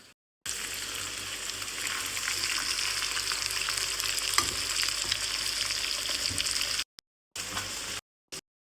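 Karimeen (pearl spot fish) frying in a pan gives a steady, loud hiss of hot oil with crackling spatter, continuous for several seconds before cutting out briefly and resuming.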